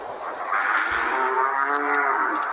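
Cattle moo in a long, drawn-out call against a steady outdoor background hum, with a brief low thump partway through and no speech.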